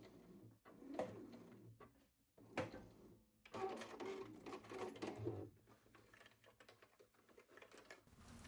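Sewing machine stitching and backtacking a pocket seam on a dress, short bursts of rapid mechanical whirring separated by pauses, then a longer run, fairly quiet with a pigeon cooing in the background.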